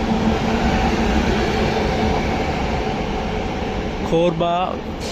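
Kochuveli Korba Express passing close by, a loud continuous roar of rolling coaches and wheels on rail, with a horn-like tonal blast near the end.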